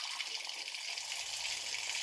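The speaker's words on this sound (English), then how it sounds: "But this water is still coming out strong" Water gushing out strongly from a basement boiler, a steady, bright hiss of rushing liquid that holds at an even level throughout the short stretch.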